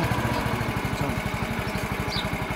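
A motorcycle engine idles close by, a steady rapid low putter with even, regular pulses throughout and no voices.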